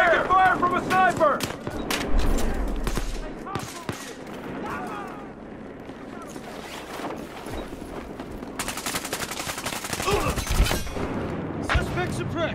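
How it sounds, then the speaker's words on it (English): Gunfire in the video game Battlefield Hardline, including sniper shots, crackles in repeated bursts and single loud reports under a near-constant voice, with a dense volley of shots near the end. "Taking fire from a sniper!"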